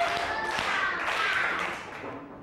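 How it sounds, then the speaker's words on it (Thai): A group of children in a classroom claps together in a burst of sharp hand slaps that tails off toward the end. The clapping is moderately loud and close. "ขอเสียงปรบมือพร้อมกัน3ครั้ง"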